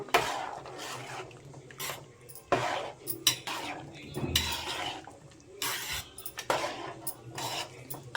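Chicken masala with garam masala is stirred in a pan, with a utensil scraping and clinking against the metal in repeated bursts, close and moderately loud.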